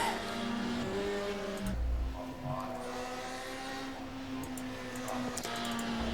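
Race car engine in the sim rFactor 2, a steady high droning whine with gear shifts and shifting pitch as the car laps a track, loud and continuous.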